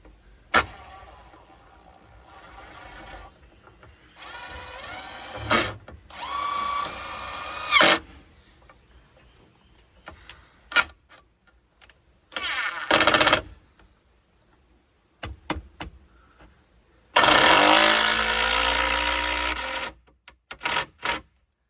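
Power drill driving screws into wood while building a rabbit hutch, several separate bursts of whirring, each a second or two long, with quiet gaps and handling noises between.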